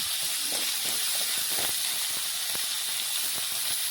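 Egg, potato and cauliflower frying in oil, heard as a dense, constant hiss with a few soft taps and clicks underneath, close and even throughout.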